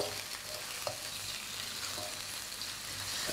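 Garlic paste fries in a pan and is stirred, giving a steady, close, even sizzle with a few faint scrapes over it.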